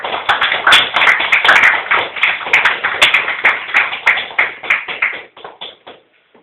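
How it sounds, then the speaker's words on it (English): Applause from an audience at a Worcester Tea Party meeting, dense close clapping for a few seconds that thins out and fades near the end. "That's a big applause"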